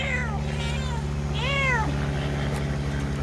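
A cat meows twice, a short call and then a longer rising and falling one, close and clear over a steady low mechanical hum.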